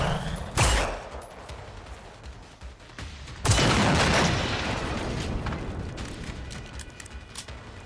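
Hunting rifle and handgun fire in the game Generation Zero: two sharp, loud shots about three seconds apart, the second followed by a long echoing tail and scattered smaller cracks.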